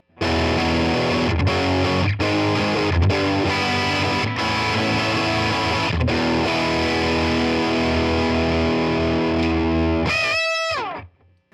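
A thick, saturated electric guitar tone through the OD side of a BOSS OD3 overdrive pedal, sustained chords droning loudly for several seconds before a brief scratchy squeal and cutoff.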